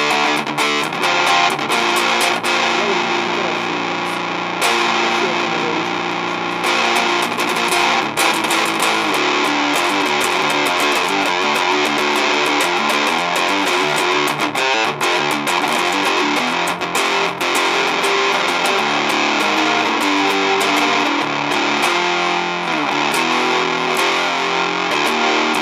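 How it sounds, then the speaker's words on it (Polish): Electric guitar played through a Laboga LR1 fuzz pedal giving a square-wave distortion, a loud, continuous buzzing fuzzy tone with strummed chords and short breaks, heard alone for the whole stretch. "Ten fuz nadaje tak, od razu słuchaj tą kwadratową falę, nie?"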